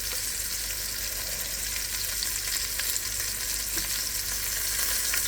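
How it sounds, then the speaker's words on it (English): Fresh farm-raised beef short ribs searing in a pot, a dense, even sizzle and spatter held close for several seconds with a few faint clinks, no speech. "I'm just searing them off, guys."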